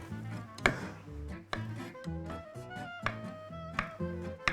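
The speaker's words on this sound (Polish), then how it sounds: "A my będziemy kroić nasze kluski właśnie pod takim skosem." A knife chops potato dumplings on a board in steady, separate diagonal strokes, several sharp knocks with faint ringing tones underneath, close and fairly quiet.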